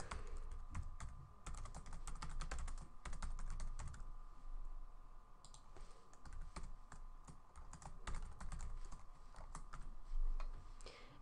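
Typing on a computer keyboard to enter a title for a Magento 2 static block, quick close keystrokes in fast bursts with short pauses between them, no speech.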